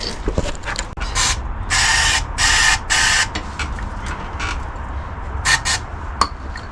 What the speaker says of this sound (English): We're going to say spray into the carbs